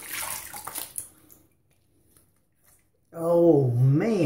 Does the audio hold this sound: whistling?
no